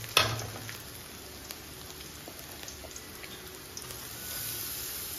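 Grated carrot is added to sautéed onions in a pan for carrot rice. It starts with a brief clatter, then a soft, steady sizzle and frying hiss runs close and low with no talking.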